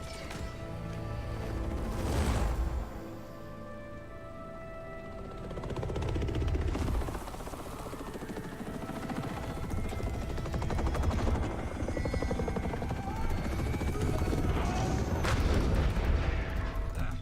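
Helicopter rotor thrum during a landing in the video game Gears 5, a steady loud drone with heavy booms and gunfire-like bursts mixed in throughout.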